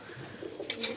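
A sick pigeon with a cold gives short, soft nasal sounds and a faint coo inside a cage, close by and quiet, with no voices.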